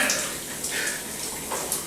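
Cold water runs steadily from a tap or shower, a constant hiss and splash at close range with no other sounds.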